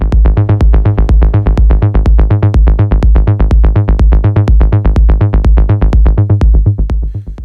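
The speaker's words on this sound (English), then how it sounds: "what you're hearing now is one of our analog kick drums" A sampled analog kick drum, an MFB Tanzberg, repeats in a fast, steady, loud pattern with deep booming low end and short clicks, accompanied by a tonal melodic layer, fading slightly at the end.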